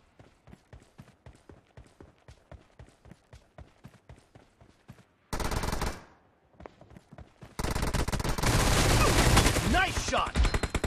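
Rapid gunfire from the BGMI mobile battle game, steady bursts of sharp shots for about five seconds, followed by a loud burst of noise and then a dense, intense stretch of continuous firing and explosions.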